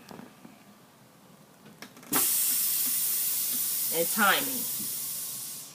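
Air bursts from a truck's brake system during a pre-trip air test, a sudden loud hiss that holds steady and slowly fades, with brief talk before it and a short voice over the hiss.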